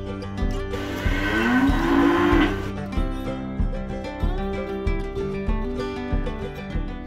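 Cattle kept by a small-scale Indonesian cattle farmer low and moo repeatedly, with one long, strong bellow early on and shorter calls after it, over steady farmyard background noise.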